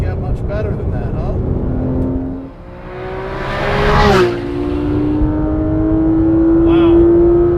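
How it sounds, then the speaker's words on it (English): A Porsche 991 GT3 RS engine revving hard from inside the car, rising pitch through the gears with a brief dip at a shift, loud and close, with some talk over it. "The engine sound, I don't really think could get much better than that"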